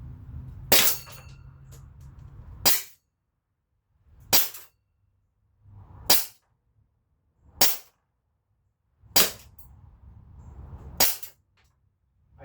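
A Barra 357 CO2 pocket pistol fires six sharp, snappy pops spaced evenly about two seconds apart, each crisp report followed by quiet, with faint mechanical handling between shots.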